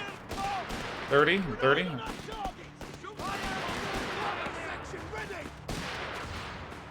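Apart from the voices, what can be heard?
cluster grenade explosions in video game Company of Heroes 3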